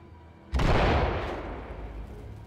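A flashbang grenade detonates in a SWAT tactical shooter video game, a single sharp, loud boom that bursts suddenly and then fades into a long, rumbling decay.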